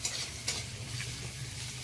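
Drumstick and pumpkin flowers with garlic stir-fried in a wok, a close, steady sizzle with a low hum underneath and a few sharp scrapes of a utensil against the metal, no voices.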